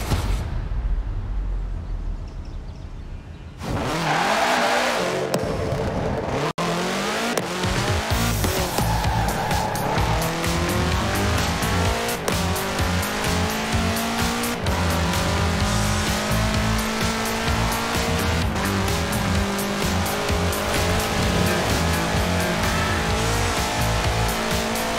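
A 1966 Volkswagen Beetle fitted with a 2.5-liter F4 turbo engine in Forza Horizon 4 roars up to high revs with screeching tire squeal and skidding. The engine drones loud and close through repeated gear shifts, with no talk.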